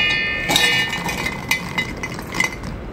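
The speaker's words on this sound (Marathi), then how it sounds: "आधी शेंगदाणे घालू मिक्सरच्या भांड्यात." Peanuts tipped into a metal mixer grinder jar make a few bright clinking rattles against the steel, close and clear, with short bursts near the start, middle and end and no one talking.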